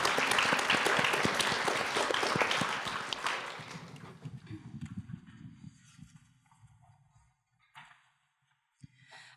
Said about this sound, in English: So let's give a round of applause for these amazing artists